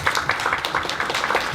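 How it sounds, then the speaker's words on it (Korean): A small audience claps at a design technology talk, steady close applause with a faint murmur of voices underneath, short and even throughout. "박수 좀 부탁드립니다"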